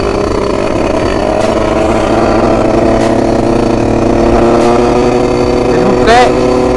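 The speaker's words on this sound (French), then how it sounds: "Et pour que la moto soit bien chaude." A 50cc motorbike engine idles and revs steadily up close to warm up, a continuous buzzing drone with a slight rise near the end and someone talking over it.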